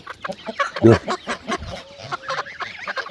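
Indian breed chickens on a farm cluck and squawk in quick, overlapping bursts close by, with one louder squawk standing out among the chatter.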